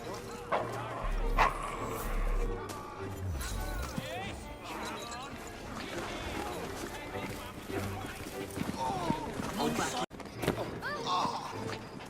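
A dog in the Devil's Acre district of London in Assassin's Creed Syndicate gives short barks and whimpers amid busy street ambience, with characters talking over it throughout.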